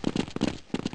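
Knife slashes from Counter-Strike 1.6, a rapid series of sharp swishing swipes in two bursts of three or four quick strokes each, loud and close, with no talk.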